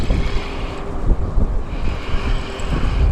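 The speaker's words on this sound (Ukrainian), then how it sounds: "Вітер роздувся такий сильний." Strong wind roars and buffets the microphone on a riverbank of the Dniester, a loud continuous rumble with gusty surges and no voices.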